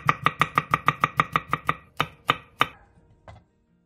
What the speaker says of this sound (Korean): 양파 4분의 1개도 얇게 채 썰어주고 색감을 낼 홍고추 조금은 쫑쫑 썰어주세요